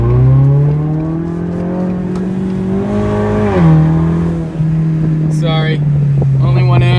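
A Toyota Camry pulls away on a snowy day, its engine a loud, close, steady hum that rises and dips in pitch as it drives off, with a few brief voices near the end.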